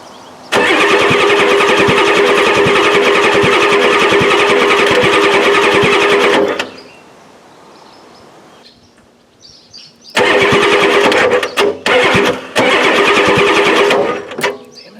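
A 1993 Ford F-250 with a 7.3L IDI diesel cranks loudly and steadily for several seconds, goes quiet, then cranks again in a fast rhythmic churn with brief stops; close and dominant, with birds faintly in the background.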